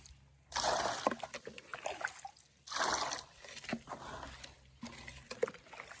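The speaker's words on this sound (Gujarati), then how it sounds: "તો આ જે ઉભારમાં પાણી છે ને તે આપણે ટબમાં ભરીને છોડવામાં નાખવાનું છે" Water poured from a tub onto newly planted nursery plants, two bursts of splashing pour with trickles and drips between them, close and moderately loud.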